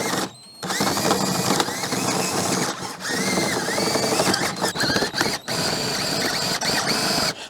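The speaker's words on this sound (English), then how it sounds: "the cutting head should just be cutting the outside of that inner pipe" A pipe reaming bit on a drill cuts out a broken PVC fitting, shaving the outside of the inner pipe. A loud, continuous grinding whine with a ratcheting chatter comes with a few brief pauses and wavering pitch as the bit bites into the plastic.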